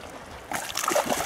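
A brief burst of splashing water, likely a fish thrashing at the surface while fishing at One Tree Beach on Malcolm Island, sudden after a quiet start and close to the microphone.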